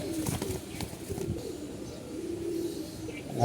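A pigeon coos in low soft repeated calls close by, with a faint rumble and bits of chirping in the background.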